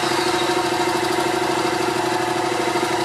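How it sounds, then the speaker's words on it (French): A Yamaha MT07 motorcycle engine idles steadily close by, a constant low throbbing rumble with a buzzing mechanical texture and no voices. "Mon moteur a démarré"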